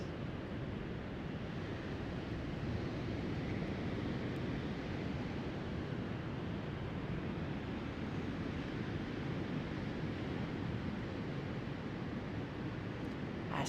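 Ocean waves wash in a steady, unbroken roar of surf, a dense constant wash with no talk over it, heard as a calm backdrop during a slow yin yoga session.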